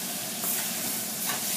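Chopped onion fries in a pot for chicken broth soup, a close, steady sizzle with brief scraping swells as a spoon stirs it.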